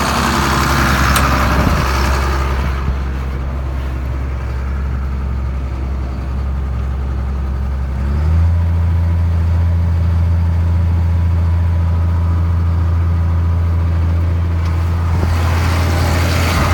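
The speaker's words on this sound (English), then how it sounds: "I'm going to go ahead and speed that tractor up a few RPMs" A tractor engine drives a Cloverdale 500 T vertical mixer processing big bales, a loud steady low drone that rises in pitch midway as the revs are increased, then holds a constant hum.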